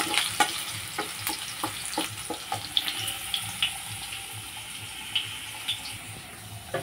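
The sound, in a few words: potato pieces frying in oil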